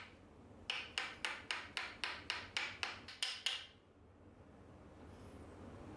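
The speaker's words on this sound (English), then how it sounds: "flatten the protruding edge of the handle over the chisel hoop using a mallet. Rotate and tap gradually to spread the wood outward." A mallet taps a wooden chisel handle over its steel hoop in eleven quick, evenly spaced knocks, close and crisp, then stops and leaves quiet room tone.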